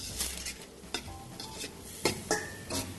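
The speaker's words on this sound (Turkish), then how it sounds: "Bir iki dakika şimdi soğanlarımızı bu şekilde kavuracağız" Onions sautéing in a pan for Uzbek pilaf, a steady sizzle under repeated scraping strokes of a utensil against the pan, close and moderately loud with no talk.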